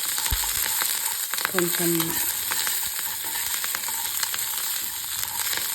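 Garlic and tempering spices fry in hot oil on a just-switched-off stove, making a constant, dense sizzle. A brief metallic clatter of a utensil sounds near the start, and one faint word is spoken.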